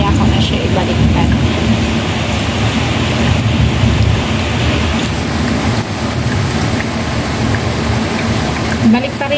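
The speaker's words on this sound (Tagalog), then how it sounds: "Ang lakas ng ulan dito guys." Heavy rain pours down steadily in a loud, dense wash of noise that never lets up, with faint low rumbles running underneath.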